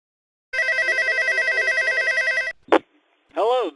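A telephone rings loudly in a steady rapid electronic trill for about two seconds, followed by a short chirp and a rising-falling electronic tone.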